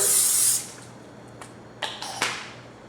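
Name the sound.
cooking spray sprayed into baking dish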